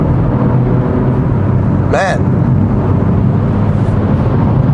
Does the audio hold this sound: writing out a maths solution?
no